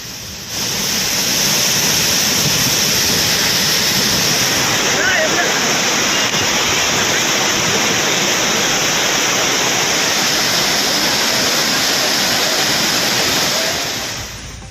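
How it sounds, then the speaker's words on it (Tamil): Courtallam's main falls, Old Courtallam and Five Falls in flood after heavy rain, a loud steady roar of heavy falling water held unbroken for the whole stretch. "குற்றாலம் மெயின் அருவி, பழைய குற்றாலம், ஐந்தருவியில் நீர் ஆர்ப்பரித்து கொட்டுகிறது"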